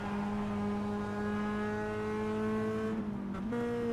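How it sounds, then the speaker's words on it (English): Simulated race car in iRacing at Brands Hatch, engine droning steadily under braking, then a quick blip and downshift near the end as the pitch drops and steps, loud and close throughout. "Brakes, again, you can hear the downshifting."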